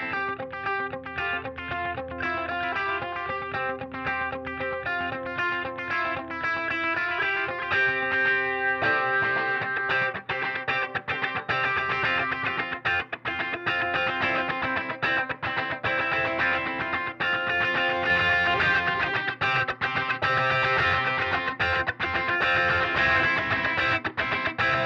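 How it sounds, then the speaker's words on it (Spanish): Electric guitar played through a dual delay and Iridium and Simplifier amp simulators rings out continuously with distorted chords and echoing repeats, loud and sustained for the whole stretch, no voices. "Dual delay suena..."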